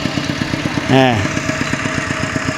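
A farm tractor engine chugs steadily and close by in a hill village at dusk, its rhythmic low thumping continuing throughout while a voice briefly cuts in.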